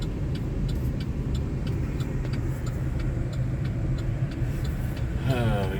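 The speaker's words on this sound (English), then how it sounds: "We got trucks behind us, cars behind us." Cars and trucks pass on a road, a constant loud rumbling engine and tyre drone close by, with a faint voice beneath it.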